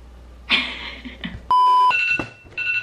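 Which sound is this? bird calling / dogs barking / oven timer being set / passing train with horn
oven timer being set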